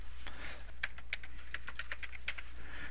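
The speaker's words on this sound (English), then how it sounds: "You type in the new password, always remembering you have to satisfy your system password requirements." Fingers tapping out a password on a computer keyboard: close, uneven keystroke clicks in short bursts over a faint steady background hum, with no voices.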